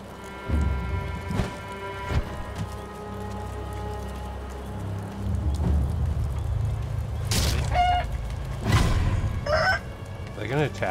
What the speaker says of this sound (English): chickens over there.